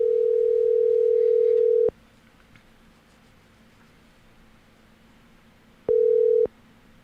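A steady telephone dial tone sounds while a call is placed to a friend. It holds for about two seconds, gives way to faint line hiss, and then returns briefly near the end.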